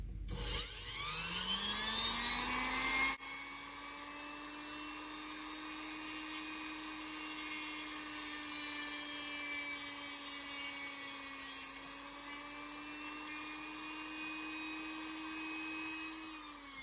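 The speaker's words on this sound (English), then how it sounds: "I use my Dremel with a cutoff wheel to trim off the excess." A Dremel rotary tool with a cutoff wheel trims plastic spacers on a 1/64 scale 2020 Shelby GT500 model, a loud close high-pitched whine spinning up and holding steady, with a brief harsher cutting bite at the start.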